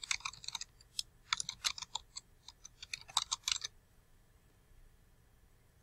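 Rapid clicks of a computer keyboard as someone enters details into an online submission form, arriving in uneven bursts for a few seconds and then stopping, leaving quiet room tone.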